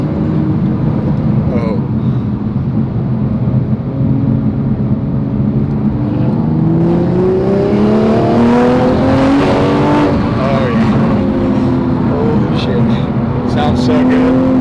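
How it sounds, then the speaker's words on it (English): A 2021 Toyota Supra A90 with a cat-less downpipe accelerates hard, its engine note rising through the gears with loud turbo whoosh, heard steadily from inside the car with windows down. "You can definitely hear the turbo a lot louder too."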